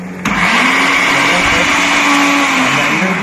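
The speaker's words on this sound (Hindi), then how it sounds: "ब्लेंडर की स्पीड जबरदस्त है।" An ANEX chopper blender runs at high speed, a loud, steady, continuous whir that kicks in abruptly and holds without pause, with no talking over it.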